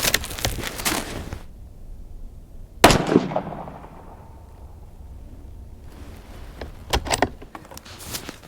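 A Ruger Precision 22 Mag rifle being fired, a single sharp, loud report with a short decaying tail, framed by clattering handling noise before and after.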